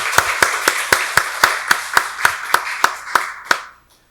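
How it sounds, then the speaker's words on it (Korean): Church congregation clapping together during a Sunday worship service, a steady unison beat of about a dozen loud claps that stops abruptly. "박수로 하나님께 영광 돌리겠습니다"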